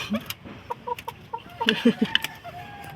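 Pet chickens clucking at close range on a rural Philippine homestead, a string of short, uneven clucks and squawks with a rooster-like call among them and no talking.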